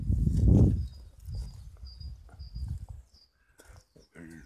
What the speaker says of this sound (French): Je pense que ce sont des oiseaux et puis il y a des choses qui doivent tomber.